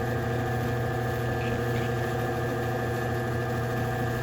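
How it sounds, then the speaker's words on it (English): A wood lathe spinning at about 800 RPM while turning a back scratcher, giving a steady, close, even motor hum with a constant low drone and no talk. "I have the lathe speed set about 800 RPMs"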